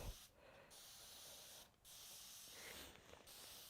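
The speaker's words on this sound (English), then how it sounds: "I will give this a little spritz." Quiet, steady hissing spray of a starch spray bottle with short pauses between bursts, spritzed several times at close range.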